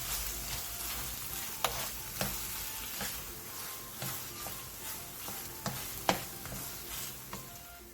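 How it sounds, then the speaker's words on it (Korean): Cheongyang chili, red chili and scallion stir-fry in a pan, a soft continuous sizzle broken by sharp spatula clicks and scrapes at irregular intervals, fairly quiet and without talk. "그 다음 청양고추와 홍고추, 파를 넣고 1분 정도 가볍게 볶아주세요."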